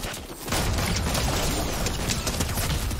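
Dense, continuous gunfire in Fortnite, a loud rapid burst starting abruptly after a brief quieter moment and sustained as a steady rattling barrage to the end.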